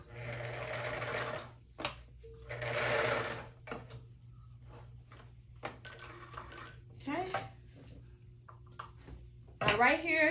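A sewing machine running a back stitch comes in two short, rapid whirring bursts, followed by scattered clicks and handling clatter and a brief voice near the end.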